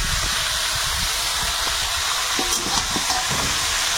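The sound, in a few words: frying marinated chicken with fried onions in a pan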